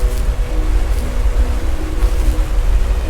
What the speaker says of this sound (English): If you've never been near a waterfall like that, how much water coming down, you can't imagine the experience.